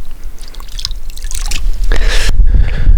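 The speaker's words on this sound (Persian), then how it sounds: "در پایین چله‌خانه چشمه وجود داره و این آب دقیقا از او چشمه میاد" Cold spring water trickles and drips near a mountain retreat in the hills of Herat, a close, steady wet splashing with a brief louder gush and rushing noise throughout.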